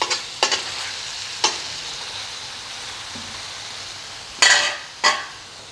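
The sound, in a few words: liver (kaleji) frying with spices on a tawa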